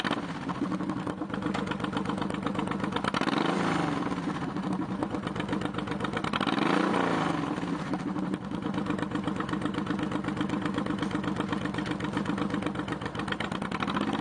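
A 2005 Honda VTX1800C heavyweight V-twin cruiser motorcycle engine runs steadily at idle, with a few gentle throttle blips swelling the rumble, heard close and alone.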